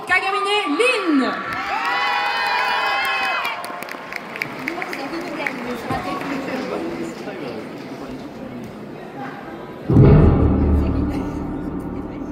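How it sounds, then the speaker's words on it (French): An audience cheers, whoops and shouts at a Saturday cosplay contest at Kamo Con 2025, a loud, continuous crowd din mixed with music, surging sharply near the end. "faites-lui un tonnerre d'applaudissements"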